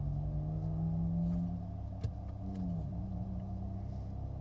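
A Chevrolet Bolt electric car accelerates hard, its motor producing a steady low hum with a rising whine that sweeps upward and then dips, heard from inside the cabin with no talking.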